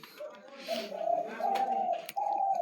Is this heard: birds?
yes